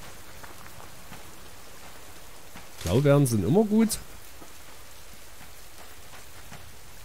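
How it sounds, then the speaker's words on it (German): Steady rain in the video game Subsistence patters continuously at a soft, even level, while someone speaks briefly over it partway through. "es regnet ja theoretisch"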